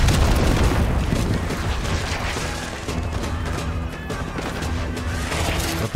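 Constant battle noise from the video game Call of Duty Black Ops 6, with a grenade going off among it. Heavy rumbling blasts and crashes fill the whole stretch, loud and close, with no clear pause.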